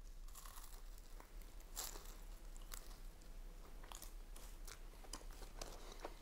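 Close, quiet crunching as someone bites into and chews a crispy friand pastry, with irregular crackly bites and softer chewing between them.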